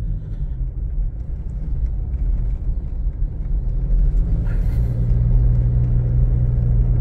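Toyota SW4 SUV driving and turning on the road, a steady low engine and road rumble from inside the cabin that swells slightly louder in the second half, with no talking.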